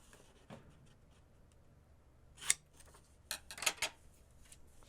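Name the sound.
cutting paper flaps at an angle for journal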